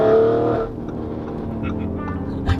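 Lamborghini sports car with 750 horsepower, its engine droning steadily at close range from start to finish, slightly louder in the first half-second, with a voice talking over it.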